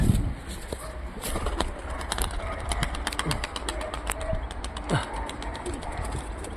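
Pigeons tossed into the air over a garden flap their wings and coo nearby, with quick fluttering bursts and soft cooing over a low background rumble.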